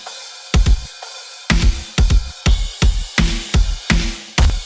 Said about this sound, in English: I'm using Modern and Massive 2 for the main sound and just a whole bunch of distortion and clipping and hard compression